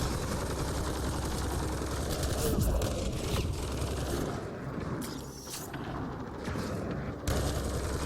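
Incoming gunfire fills a firefight in the video game Mass Effect: Andromeda, played on Insanity difficulty, as a loud and dense barrage of shots and impacts that runs without a break under rumbling battle noise.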